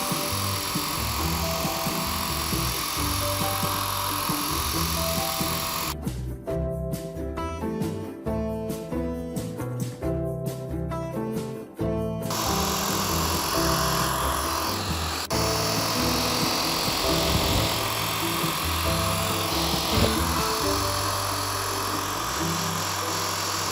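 A CNC mill runs a cutting program on shims for a Lagun mill table, a steady loud machining drone with a harsh, buzzing, rapidly pulsing cutting burst in the middle, heard up close throughout.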